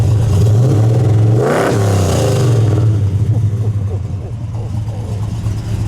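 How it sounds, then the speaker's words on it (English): A 1970 Ford Torino Cobra with a 429 V8 and four-speed, original-owner car, is revved up hard once, the roar climbing and falling back to a loud, steady idle with a clattering exhaust burble. "Rick, give it a rev. One more time, please."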